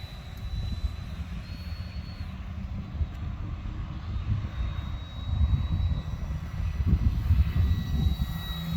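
A small RC model airplane's electric propeller motor whines at a high pitch during takeoff, steady at first and then throttling up louder, with a low rumble of wind and ground noise beneath.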